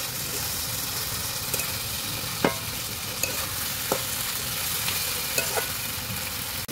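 A fish head fries in a pan under a loud, steady sizzle, with a few sharp clicks and taps from stirring over the constant hiss.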